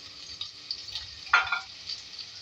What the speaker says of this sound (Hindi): इसमें मैं ऐड करूँगी चॉप हरी मिर्च 2 से 3, ठीक है। इसको थोड़ा फ्राई करेंगे